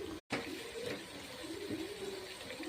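Chicken pieces washed with turmeric in water make a soft, continuous splashing and sloshing, close by and fairly quiet, with a brief gap near the start.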